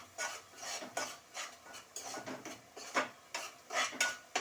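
Spoon stirring ginger garlic paste into a frying sand whiting fish curry in a pan, with soft rhythmic scrapes and clinks at a steady pace, fairly quiet and close.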